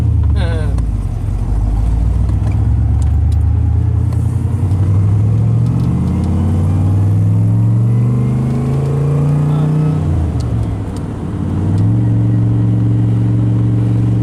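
A powerful 1967 Corvette Stingray convertible engine revs repeatedly, pitch climbing and dropping through several short-throw shifts, loud and close, with a brief dip before revving again.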